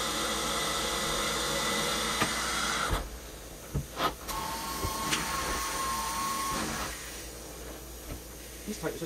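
A carpet cleaning extraction machine with hose drones steadily with a broad hiss and whine, dropping in level partway through as suction changes, with some knocks and clatter; voices are barely present.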